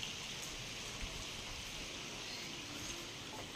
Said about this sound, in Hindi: ये देखिए बारिश, देखिए कैसी बारिश पड़ रही है।